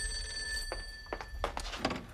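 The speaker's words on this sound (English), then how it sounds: "It might be the phone." An indoor telephone bell rings in a few short, separate bursts over a quiet room, with some faint knocks and thumps between the rings.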